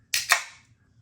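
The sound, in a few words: beer can of imperial coffee stout being opened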